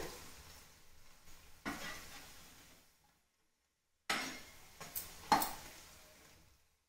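Potato and cabbage tikki frying in hot oil: a steady close sizzle with spatula scrapes, which cuts out into a second or so of silence, then returns with sharper clinks and knocks of a utensil against the pan.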